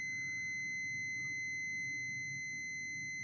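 A continuity tester sounds a steady, piercing high-pitched tone while checking armoured SWA cable at its gland termination. The tone is loud and unbroken throughout, over a low background hum.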